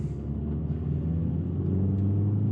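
A 2020 Toyota C-HR under full throttle gives a steady, droning engine rumble heard from inside the cabin, holding at an even loudness with no speech over it.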